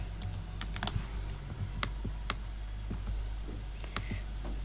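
Fingers typing code on a computer keyboard, a close, quiet run of crisp key clicks in irregular bursts over a low steady hum, no voice.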